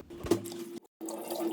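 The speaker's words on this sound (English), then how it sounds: "you want to wash and drain your rice about 4 or 5 times," Basmati rice being washed and drained in water, with running tap water and sloshing liquid that stop briefly partway through, then resume close by.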